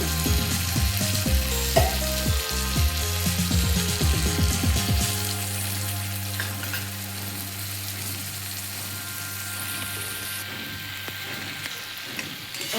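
A spice paste sizzles in a pan for a rohu fish curry with stem greens, brinjal and potato, opening with sharp stirring knocks before settling into a steady, close hiss.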